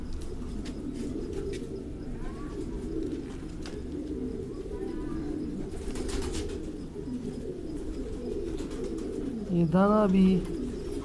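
A golden pigeon with an eye abscess, awaiting an operation, gives a few soft coos, with a clearer close call near the end, while someone talks nearby.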